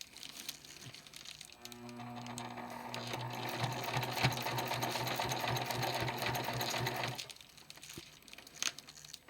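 A sewing machine stitches through heavy blackout curtain fabric in one steady, close whirring run of several seconds, then stops. No one speaks.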